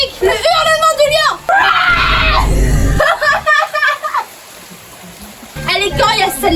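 A person screams loudly outdoors in the rain, imitating a lion's roar, in several bursts with rising and falling pitch, alongside a splashing, rushing noise and a final scream near the end.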